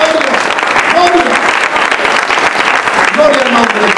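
A church congregation breaks into loud, dense applause for Jesus, close and sustained, while a voice calls out over the clapping in places.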